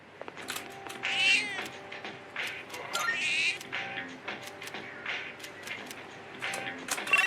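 A cat meows repeatedly in a video game, each call loud and high and set against a soft melodic game soundtrack with small clicky interface sounds between the meows.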